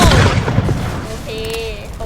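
A gunshot in Roblox Guts & Blackpowder, a Napoleonic-era zombie game: a loud close blast at the start that decays into rumbling echo, followed by thinner tonal game sounds.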